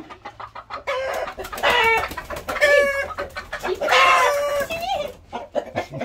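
Hens squawk and cluck loudly inside a chicken coop, several birds giving agitated overlapping cries in bursts, close by, with rustling and scuffling between calls.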